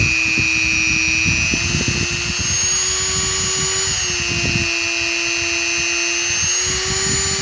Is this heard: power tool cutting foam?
yes